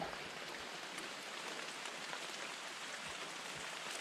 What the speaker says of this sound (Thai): ตอนนี้ฝนก็ยังตกตกอยู่นะเพื่อน ยังไม่หยุดนะครับ